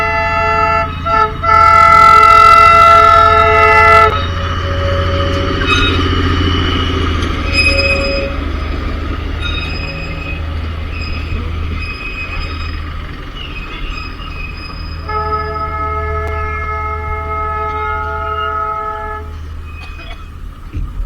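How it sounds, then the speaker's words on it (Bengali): The Darjeeling Himalayan Railway toy train passes on a hill road between Pankhabari and Gidhey Pahar, opening with a loud sustained horn blast, then a long rumbling, clattering run of carriages, with a second horn note later on. "তোমরা দেখতে পাচ্ছ টয় ট্রেন।"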